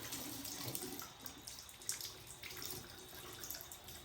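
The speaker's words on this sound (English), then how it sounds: "the water's a little too hot" Tap water runs steadily into a sink while a Rainbow High doll's hair is washed, a continuous splashing hiss with small drips and handling noises close by.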